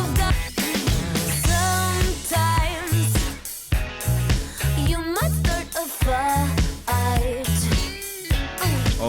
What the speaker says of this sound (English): You can hear the grooviness in that guitar in the background.